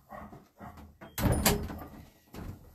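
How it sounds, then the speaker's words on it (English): A neighbour's dog barks a few doors away, several muffled distant barks in uneven bursts, with a door-like thump and clatter in the middle. "Oh, next door, but one's dog is off barking."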